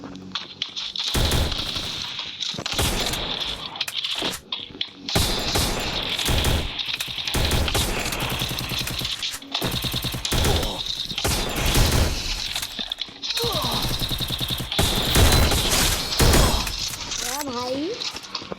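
Dense, loud gunfire from a video game, Woodpecker one-tap shots among rapid bursts and crackling impacts, fills the scene almost continuously while voices talk over it.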